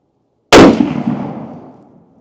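A Ruger M77 Hawkeye Hunter rifle in .358 Winchester fires a single loud, close shot with a sharp crack and a long rolling echo that fades over about two seconds.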